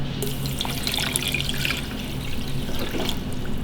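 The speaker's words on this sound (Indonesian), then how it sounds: "Kita tuang air." Water poured into a pot over sugar and plain jelly powder while making jelly, a steady splashing trickle close by, continuous for a few seconds.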